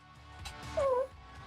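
A cat gives a single short meow, close and clear against a quiet background hum.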